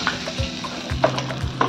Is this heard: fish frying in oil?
yes